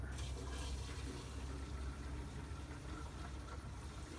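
Rainwater pours steadily into a first flush downspout diverter, filling the chamber with a continuous rushing, sloshing wash that stays loud and even throughout.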